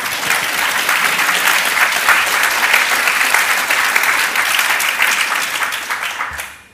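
Audience clapping at a public talk in Vienna: dense, even applause from a large room that holds steady for several seconds, then quickly dies away at the end.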